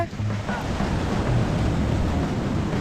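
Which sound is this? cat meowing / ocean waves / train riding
ocean waves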